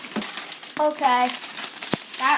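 Parchment paper crinkles and rustles in a few short, close bursts while someone lines a baking pan, with voices talking around and between the crackles.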